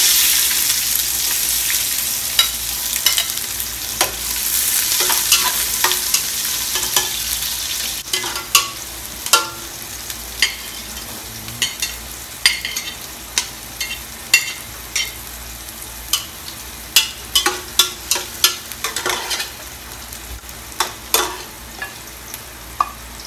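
Onions sauté in a pan for sinigang sa miso, a continuous soft sizzle with frequent sharp clicks and scrapes of a spatula stirring, growing busier and more rhythmic toward the end.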